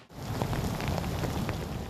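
Heavy rain falls steadily during flash flooding in Sydney, a dense, continuous hiss of rainfall close by with no pauses.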